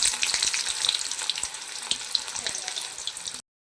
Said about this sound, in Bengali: বেরেস্তাটা বানানোর জন্য পেঁয়াজটা দিয়ে দিচ্ছি